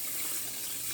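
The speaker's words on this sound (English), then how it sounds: "Add in your water." Water pouring into a rice cooker holding three cups of rice, a close, continuous splashing gush for a second, with no talking.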